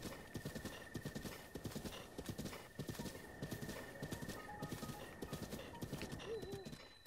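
Horse in The Legend of Zelda: Breath of the Wild galloping in, with steady rhythmic hoof clip-clops throughout and a brief whinny near the end, fairly quiet.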